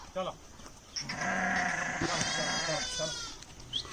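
Sheep bleating as a flock enters a pen, several overlapping bleats close by, loudest in the middle stretch, with brief voices at the start and end.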